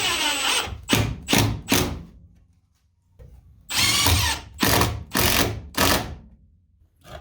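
A power drill drives screws while an outdoor Bluetooth speaker is being mounted: two clusters of close, loud whirring bursts, three short runs then a pause and four more, with no talking.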